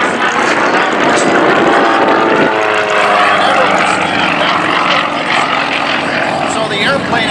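A Sukhoi Su-29 aerobatic airplane flies close overhead, its propeller engine a loud, continuous roar and drone that shifts in pitch as the plane passes and rolls.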